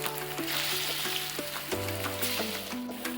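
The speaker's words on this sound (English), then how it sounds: "fry until the prawns change color and are well cooked" Marinated prawns frying in a pan of hot oil, a steady close sizzle with bubbling crackle throughout, with faint kitchen tones underneath and no talking.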